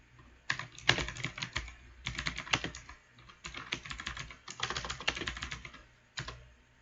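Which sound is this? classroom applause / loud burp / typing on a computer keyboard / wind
typing on a computer keyboard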